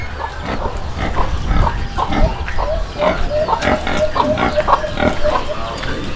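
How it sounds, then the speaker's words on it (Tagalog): Pigs in a pig pen at a farm piggery grunt and oink repeatedly, a close, busy chorus of overlapping snorts and squeals with a constant murmur of background noise. "ito po yung babuyan ni Sir Arnold."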